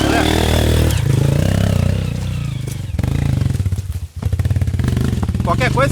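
Honda XR 200 dirt bike ridden on a trail by a young rider, its engine buzzing and revving loudly nearby with a brief dip before it picks up again. Someone shouts encouragement over the engine.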